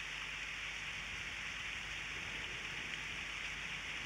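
Steady rain falls in a dense, even hiss of drops on a surface, continuous and fairly close with no rhythm changes, no thunder and no voices.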